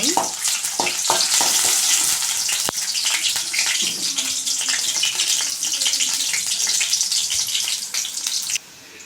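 Onions fry in oil for tomato rice while being stirred, producing a loud, continuous sizzle with rhythmic scraping and clattering of the spoon against the pan, close and prominent.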